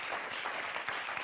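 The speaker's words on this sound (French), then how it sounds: "On va d'abord vous applaudir très très fort." A studio audience on a French game-show reaction bit breaks into dense, steady clapping, near and unbroken for the whole short burst.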